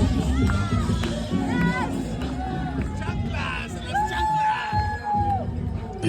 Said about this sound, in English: The cheering, shouting,